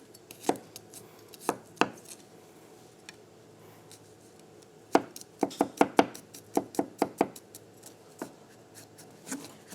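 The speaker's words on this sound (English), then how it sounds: "we're going to start by chopping up some garlic." Knife chopping garlic on a cutting board for a tahini sauce, sharp irregular taps that come in scattered strokes before a quicker run of close, crisp cuts, with no talking.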